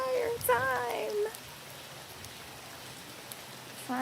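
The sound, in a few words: heavy rain on a tropical island in Panama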